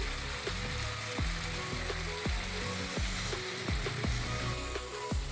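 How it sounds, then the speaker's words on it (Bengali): Marinated prawns lightly frying in hot oil: a constant sizzle up close, punctuated by sharp, rapid clicking crackles that recur every second or so, with no talk. "এবার আমি মাখানো চিংড়ি মাছগুলো দিয়ে দেব। হালকা ভেজে নেব বন্ধুরা, চিংড়ি মাছ বেশি ভাজতে নেই।"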